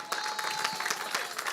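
A church congregation claps in a brisk, dense burst of applause, close and steady throughout.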